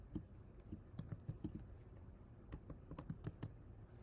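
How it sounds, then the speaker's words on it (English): Quiet computer keyboard keystrokes tapping in irregular bursts, a few sharper clicks standing out, with no talking. "making use of the Command-Enter shortcut on the keyboard"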